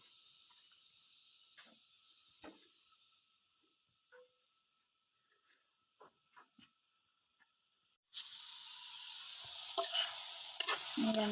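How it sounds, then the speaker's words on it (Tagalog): Bitter gourd and tomato sautéing in a pan, starting abruptly as a loud, steady sizzle after a quiet stretch of faint clinks and ticks, with a few stirring scrapes near the end. "Ang ulam natin ay ginisang ano lang, ampalaya with kamatis. Ayan, igigisa lang natin ito."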